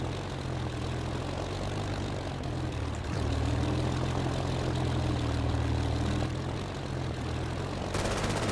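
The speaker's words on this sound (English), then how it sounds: "But there's another French plane." French propeller plane in a video game, a steady droning engine hum that holds level throughout, rising slightly in the middle, with no talking.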